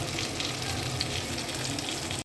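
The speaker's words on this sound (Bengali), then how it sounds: "এখন বেগুনগুলো আমি আস্তে আস্তে ভেজে নিব" Round eggplants frying in hot oil give a steady, close sizzle that holds evenly throughout, with no talking.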